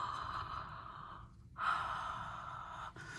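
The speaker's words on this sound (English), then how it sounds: "Let's breathe." Two audible breaths during a singing lesson: a drawn-out exhale fades into a pause, then a sharp intake of air follows and trails off in a softer breath, close and clear with no talking.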